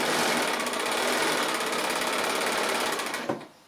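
Sewing machine stitching quilt block patches chained one after another, a steady loud rapid whirring drone that runs continuously for about three seconds before slowing and stopping.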